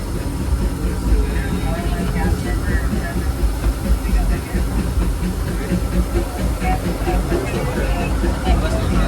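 A steady rumble and hiss of the Disneyland Railroad steam train rolling along, heard from the front car, with faint rhythmic clatter and voices murmuring underneath throughout.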